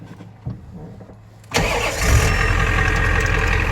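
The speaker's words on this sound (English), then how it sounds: "I'll let you guys experience the worst gear rollover noise ever" A car engine starts after a quiet moment, then settles into a steady, rough idle with a gritty mechanical rattle underneath from severe gear rollover noise in a newly installed ZF5 manual transmission.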